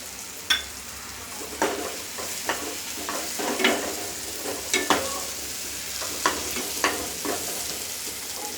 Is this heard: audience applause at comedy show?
no